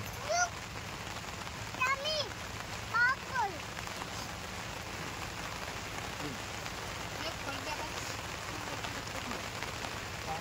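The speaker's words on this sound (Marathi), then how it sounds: "पाऊस नाही उघडत होता" Steady rain falling on a surface, a constant hiss throughout, with a few brief voice-like calls and chirps rising above it early on.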